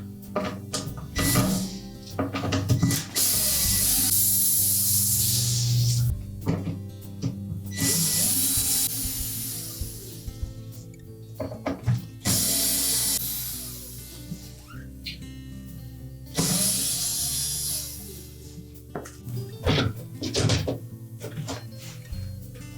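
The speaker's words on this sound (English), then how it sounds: "we'll remove the screws that secure that filter assembly to the top of the pump" Number 2 Phillips screws being backed out of the filter assembly atop the pump in an LG dishwasher, with repeated close, loud bursts of driver whirring and metallic clicks separated by short pauses.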